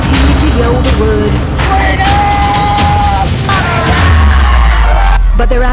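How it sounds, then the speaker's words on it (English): A street protest crowd in lockdown-era Melbourne yells and shouts loudly at the top of their lungs, overlapping cries and bangs forming a dense, close roar amid police dispersal. "At the top of their lungs, protesters continue to yell the word"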